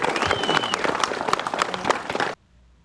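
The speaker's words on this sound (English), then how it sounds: "Let's give them a round of applause." Audience at a crappie fishing tournament applauds the first-place team, a brisk burst of clapping with some crowd noise that stops abruptly after about two seconds.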